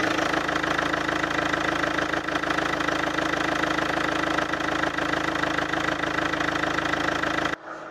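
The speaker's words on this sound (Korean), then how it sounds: "엔진 소리 한번 들어보도록 하겠습니다" A 7-seat Winstorm LT SUV with a DPF, older but low-mileage, idles steadily with the hood open, a close, even engine hum that runs unbroken before cutting off sharply near the end.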